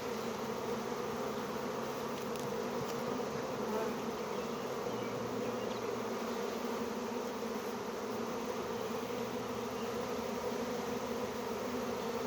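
A swarm of honey bees fills the air with a constant, enveloping drone, many wings humming together at steady loudness for the whole stretch, with occasional nearer passes and no voices.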